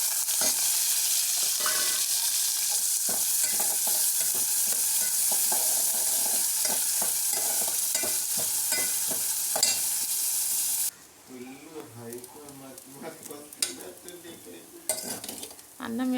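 Onions sizzling in a hot pan for fried rice, with continuous loud frying and repeated scraping stirs of a spatula against the pan, quieter clinks and stirring toward the end.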